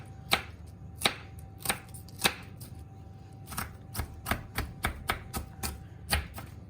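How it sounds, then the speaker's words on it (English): A knife chops an onion on a cutting board in a series of sharp, close taps, first spaced and slow, then quicker and more even. "Here's our onion and we're just going to cut it just the exact same way we cut our tomatoes."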